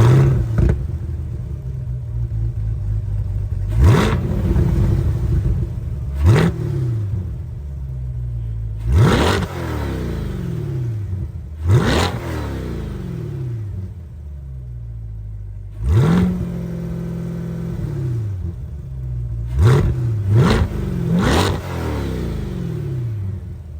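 A C8 Corvette with a titanium exhaust sits close by and revs repeatedly, each throttle blip rising sharply into a loud roar before falling back to a deep, burbling idle, with about eight revs spread across the stretch.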